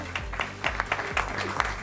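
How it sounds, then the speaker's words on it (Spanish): A television studio audience applauds, a dense, continuous patter of many hands clapping at close range, with a few louder claps poking through. "yo estoy chequeando que aplaudan todos"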